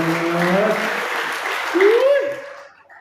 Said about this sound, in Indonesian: Berikan tepuk tangan yang meriah buat Tuhan Yesus.